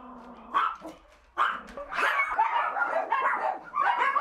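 Several dogs at a puppy mill barking and yipping in bursts, some sharp and close, others overlapping into a noisy chorus with brief whimpers between.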